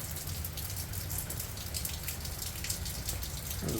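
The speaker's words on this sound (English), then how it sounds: "Check out this beautiful rain. Just a nice steady rain too." Steady rain falls in Arizona, a dense, even hiss of drops pattering on surfaces close by, continuous and unbroken with no voices.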